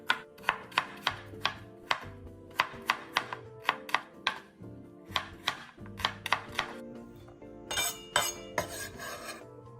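A knife finely chopping ginger, garlic and shallots on a board, rapid close taps in quick bursts with short pauses, then a scraping, rubbing stretch.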